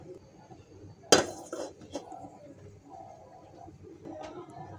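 A cooking pan is shifted across to another stove burner during a recipe of kakrol with shrimp and dried fish, giving one sharp metallic clank followed by a brief softer clatter, then quiet kitchen room tone.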